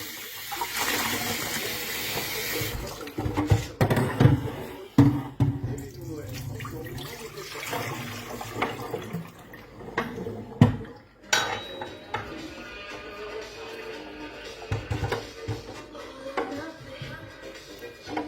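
An aquarium external filter tank is rinsed under a running tap, with water splashing and rushing, interrupted by plastic knocks and clatters as the tank is handled and turned, loudest in the middle stretch and fading to quieter trickling.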